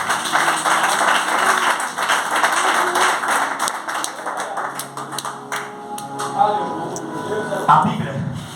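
Congregation clapping during a church praise moment, a steady run of rhythmic handclaps under singing or speaking voices that carries through most of the passage.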